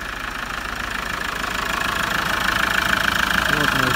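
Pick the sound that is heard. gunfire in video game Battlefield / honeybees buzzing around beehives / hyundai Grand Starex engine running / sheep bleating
hyundai Grand Starex engine running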